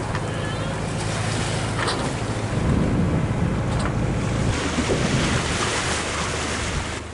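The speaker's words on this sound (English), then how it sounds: "The wave's here." Ocean waves wash steadily around a sailing boat as it pulls into a sheltered bay in the afternoon, with constant wind buffeting over the surf and no voices.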